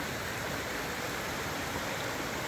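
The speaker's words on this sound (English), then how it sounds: "That's one of the best waterfalls we've seen, right?" A waterfall on Rainbow Mountain pours in a steady, dense roar of rushing water, loud and close, unbroken throughout with no voices.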